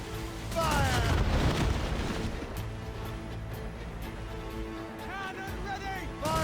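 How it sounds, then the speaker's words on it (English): Heavy ship cannons booming in an Assassin's Creed Rogue naval battle, a broad thunderous blast early followed by rumbling, with shouted voices and whistling sounds over the din. "Cannon ready! Fire!"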